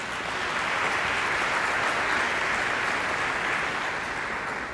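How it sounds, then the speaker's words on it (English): Broad, even applause from an audience at a Congressional Black Caucus gathering, a continuous round of clapping held steady for a few seconds with no other sound on top. "They deserve a round of applause for allowing us to gather here."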